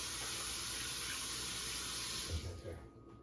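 Tap water runs steadily into a kitchen sink while hands are washed, a loud continuous close splash that thins out near the end as the flow is cut.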